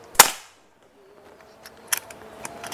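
One sharp PCP air rifle shot from a double-tank rifle cracks loudly at the start, followed by a short silence and a few faint clicks and handling noises.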